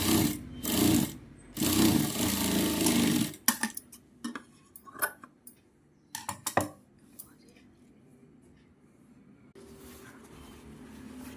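A sewing machine stitches cloth to fake piping without piping thread, running in a loud, steady burst for about three seconds, then giving way to brief handling clicks and quiet pauses.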